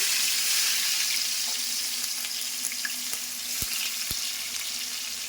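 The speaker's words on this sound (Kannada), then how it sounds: "ಎಣ್ಣೆ ಕೂಡ ಬಿಸಿ ಆಯಿತು ಈಗ ಒಗ್ಗರಣೆ ಕೊಟ್ಕೊಳ್ಳೋಣ ಸಾಸಿವೆ ಹಾಕಿದ್ದೀನಿ" Loud, continuous hiss of mustard seeds in hot oil sizzling close up, with a few sharp crackling pops breaking through near the end.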